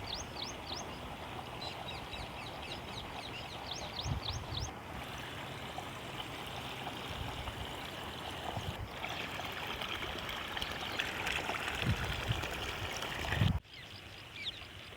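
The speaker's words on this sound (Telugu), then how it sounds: "వాగు దగ్గర వాగు చూడండి ఎంత వస్తుందో" A rain-flooded stream rushes steadily in a full-flowing current, a constant broad roar, with brief bird calls near the start and a short knock near the end.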